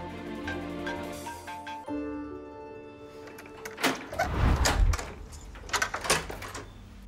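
A door is knocked on and worked at in a Turkish TV drama home scene, with a loud burst of banging and handling noises in the middle following quieter background sounds, and no speech.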